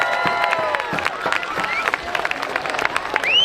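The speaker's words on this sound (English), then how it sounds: "Big round of applause." Applause and cheers from a crowd at a demolition derby, closing the Power Wheels kids' round; scattered claps and shouts with excited voices and whistles over a steady crowd murmur.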